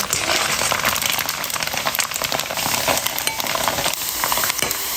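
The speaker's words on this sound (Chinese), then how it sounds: "锅里面多倒点油，把豆干炸一下" Diced dried tofu deep-frying in plenty of oil in a wok, a dense, steady crackling sizzle that fills the whole clip, close and loud, with occasional sharper pops and no talking.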